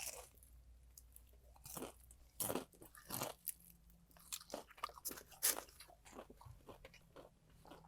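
Teeth bite through crispy fried chicken skin in a handful of sharp, close crunches followed by quieter chewing, all fairly soft against a low background with no talking.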